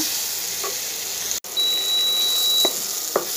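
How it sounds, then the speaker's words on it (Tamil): Onion and tomato sautéing in a pan for salna, a steady close sizzle with a couple of brief stir scrapes and a short high electronic tone partway through. "நான் வெங்காயம் தக்காளி மட்டும் சேர்த்து செஞ்சு காமிச்சிருக்கேங்க. இது நல்லா வதங்கட்டுங்க."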